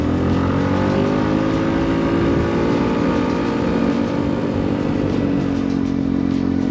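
A Honda motorcycle engine revs loudly and steadily up close, a sustained throaty roar with rising pitch and no voices.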